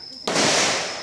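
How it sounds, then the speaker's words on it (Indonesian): A real rifle gunshot at the Cu Chi tunnels shooting range in Vietnam cracks once, sharp and loud, then rings out in a long fading echo. "Mungkin teman-teman masih dengar itu suara tembakan asli ya itu ya."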